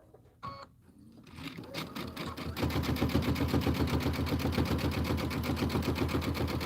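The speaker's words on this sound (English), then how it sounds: "So let's go ahead and sew these two together." A domestic sewing machine stitches quilt pieces together, starting after a few quiet clicks and then running loud and steady with a fast, even mechanical rhythm.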